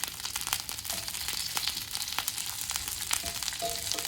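Porterhouse steaks fry in a hot pan with a dense, continuous sizzle and crackle, close and fairly loud, and no talking over it.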